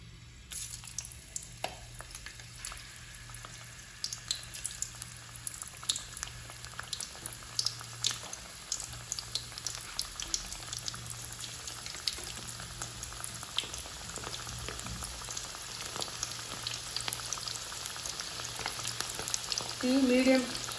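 Cabbage pakoda fries in medium-hot oil with a dense, continuous bubbling sizzle and scattered crackles, close and moderately quiet, swelling slightly toward the end.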